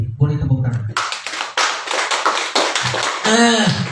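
An audience at a health seminar breaks into applause after a voice speaks, with several waves of dense clapping that fill the room, loud and near, ending as another voice returns.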